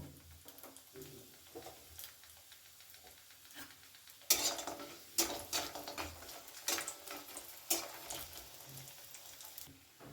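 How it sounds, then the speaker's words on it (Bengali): Bori lentil dumplings frying in a pan, a quiet sizzle punctuated by scraping and stirring clatters that grow busier partway through, with no talking. "এখন আমি বড়িগুলো ভেজে নেব"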